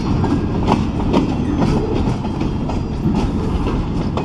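A long freight train of cars loaded with pulpwood, some lettered with company names, rolls past close by, wheels keeping a steady clickety-clack rhythm under a continuous loud rumble with no voices.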